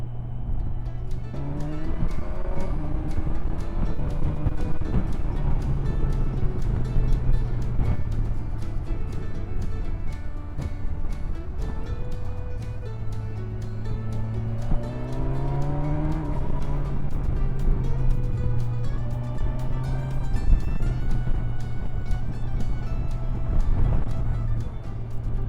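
A Kawasaki Versys 1000 SE motorcycle with quick shifter and auto-blipper rides down country lanes, its engine note rising through several gear changes and dropping between them, loud and continuous under wind noise.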